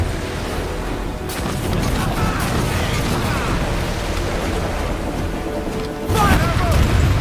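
Ship cannons firing in a naval battle in Assassin's Creed Black Flag, deep booming blasts in dense succession with a heavy rumble and a fresh loud volley near the end, under game voices.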